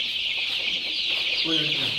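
Country chickens cluck on a native-breed poultry farm, short clucks rising over a constant high-pitched hiss of background noise.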